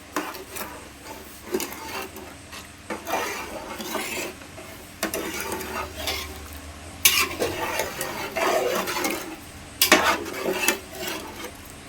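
Rice being stirred in a cooking pot for pulao, a spoon scraping and turning the grains in irregular strokes, with occasional sharper knocks against the pot and a faint sizzle beneath, nearby and without talk.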